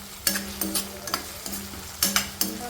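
Tomato egg curry is stirred in a pan, making a series of sharp scraping clinks of the spoon over a soft sizzle, about six strokes in under three seconds.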